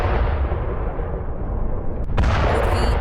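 Heavy shelling over eastern Al Shujaiya in Gaza at night: a continuous loud, rumbling barrage of explosions and artillery fire, with a sharper blast cracking through about two seconds in, no voices.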